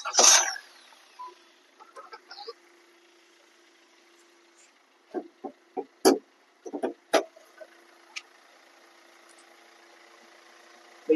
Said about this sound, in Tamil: இன்ஜினுடைய சவுண்ட பாருங்க.